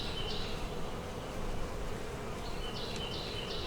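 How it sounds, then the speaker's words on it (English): Honey bees swarm around a hive frame near a small nuc from the farm, a steady dense buzzing hum with occasional higher passes as individual bees fly close. "We got to get the bees off it first."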